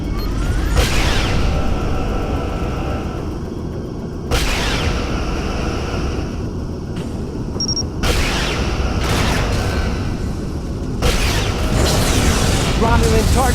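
A Romulan ship blowing up in the Star Trek: Legacy space combat game, with several loud booming bursts across the clip amid a steady rumble of engine and weapons noise.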